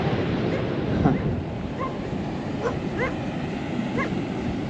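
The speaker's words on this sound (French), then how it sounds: "Le gang des chiens errants." A pack of stray dogs on the Moroccan west coast barks in short, scattered yips at a distance, half buried under a constant roar of surf.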